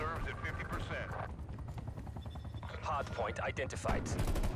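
An attack helicopter in the video game Call of Duty: Black Ops Cold War, during a Checkmate Hardpoint match, thumps steadily beneath rapid gunfire and explosions, with a game announcer voice speaking over the battle.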